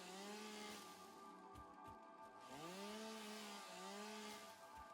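A chainsaw in the video game Satisfactory runs steadily and loudly, its buzzing engine rising and falling in pitch as it revs through several bursts, with no talking.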